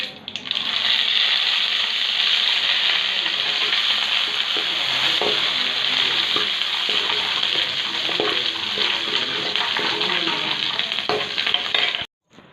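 Mustard seeds and curry leaves sizzle in hot oil, giving a loud, continuous close-up crackle and hiss with scattered pops that runs for about twelve seconds and then cuts off abruptly, with no voices.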